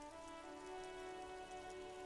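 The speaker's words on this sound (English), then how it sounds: "Rain drips from the eaves and floods the gutters," Rain falls on the city of Revachol in the video game Disco Elysium, a soft, steady patter of drops on surfaces held low and even under a sustained tonal drone.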